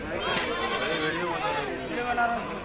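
Village goats bleat repeatedly at a busy goat market in Bharadi, Maharashtra, with people chattering nearby throughout.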